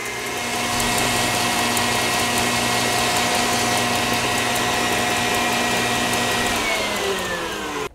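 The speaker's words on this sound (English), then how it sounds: "I whipped the egg whites and the salt until soft peaks started to form, and then I slowly added the sugar." An electric mixer whips egg whites with salt into meringue for a chocolate velvet pie, giving a steady loud motor whine that runs continuously close by and stops abruptly near the end, with no talking.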